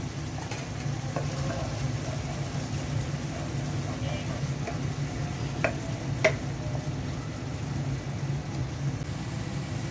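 Spices, salt and a few green chillies are stirred together in hot oil for a fish curry, producing a soft, continuous sizzle with occasional light scraping clicks close by.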